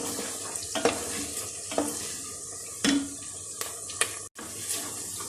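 Onions frying with ginger-garlic paste sizzle in a hot pan with stirring and occasional scraping clinks, steady and close, no talking.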